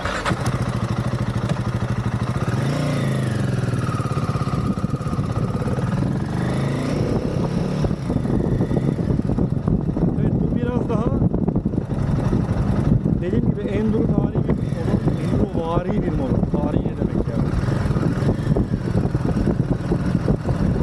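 A 450 cc Royal Enfield motorcycle engine idles and revs nearby with a ticking, clattering exhaust, while someone talks over it throughout.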